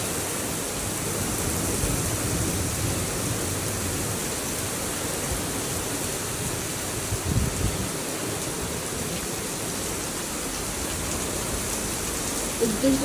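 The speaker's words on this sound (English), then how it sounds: "There's a lot of heavy rain and strong wind." Heavy rain and strong wind during a severe thunderstorm, a dense steady roar of downpour and gusts filling the whole span, with faint low rumbles underneath.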